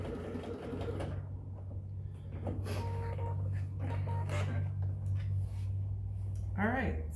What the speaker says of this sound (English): I sewed 1/4 inch down the edge of my vinyl